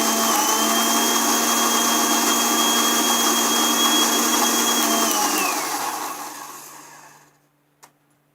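Kitchen blender grinding green chutney with garlic and cumin: a loud steady motor whir holding for about five seconds, then winding down to silence, with a small click at the end.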